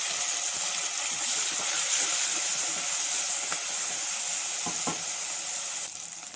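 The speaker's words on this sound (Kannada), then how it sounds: "ಒಂದೇ ಒಂದು ಟೊಮಟೊ ಹಾಕಿ ಚೆನ್ನಾಗಿ ಫ್ರೈ ಮಾಡ್ಕೊಳ್ಳಿ" Tomato with onion frying in a pan for a home-cooked pudalangai kootu, a steady close sizzle and hiss throughout with a few faint clinks, easing off near the end.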